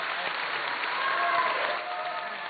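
Members of the Lebanese parliament break into a dense, sustained round of applause, a steady roar of many hands clapping that swells slightly midway and then eases.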